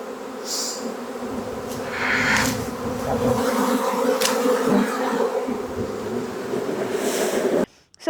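A honey bee swarm being shaken from a tree into a hive, a dense continuous buzzing drone of many bees, close and steady for several seconds, swelling slightly before cutting off abruptly at the end.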